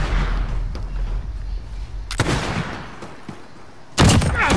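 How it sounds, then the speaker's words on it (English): Two loud shotgun blasts boom in the Modern Warfare video game, spaced about two seconds apart over a low rumbling background, the second sharper and heavier. "Trying to shoot a shotgun from that range, that's stupid."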